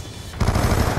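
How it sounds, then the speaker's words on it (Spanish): A Vector K10 submachine gun fires in the Black Ops 2 video game, a sudden rapid burst of close, loud shots after a short quiet moment. "Disparo efectuado."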